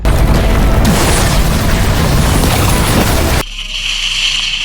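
A loud, roaring blast rumbles continuously with broad noise for several seconds, then drops suddenly into a quieter hissing tail.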